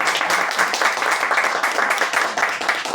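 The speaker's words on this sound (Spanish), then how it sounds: "Si te puedes poner de pie, María, para hacer un fuerte aplauso." Steady audience applause at a Paraguayan book launch event, many hands clapping densely and continuously at moderate volume with no voices over it.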